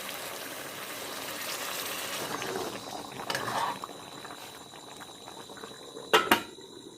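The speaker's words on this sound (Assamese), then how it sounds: "এতিয়া গৰম পানী দিছোঁ উতল থকা।" Hot water is poured into a pot of meat curry, giving a steady bubbling, gurgling wash with a couple of sharp metallic clanks of a utensil near the end.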